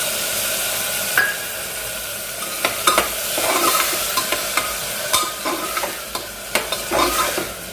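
An onion frying lightly in a pan, with a steady sizzle and a scrape or clatter now and then as it is stirred. The sound is close and moderate, with no talking.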